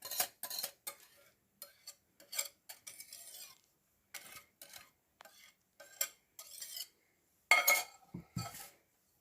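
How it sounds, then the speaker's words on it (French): Chocolate batter for a pear and chocolate tart is worked with a spatula in a bowl, giving repeated short scraping and tapping strokes in irregular bursts, close and fairly quiet with brief pauses between. "Moi, j'utilise juste une spatule et on mélange."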